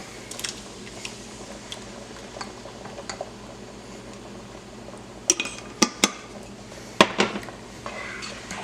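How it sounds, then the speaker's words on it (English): Spanish rice and salsa are stirred in a camping pot for a one-pot camp meal, giving soft scraping with scattered sharp metallic clinks near the end over a low background hiss, and quiet voices now and then. "Just going to get this all mixed up."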